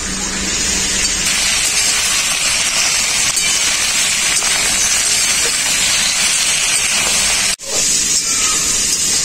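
Gourd leaves and potatoes frying in hot oil in a home kitchen, a loud, steady sizzling hiss that runs without a break except for one momentary dip near the end.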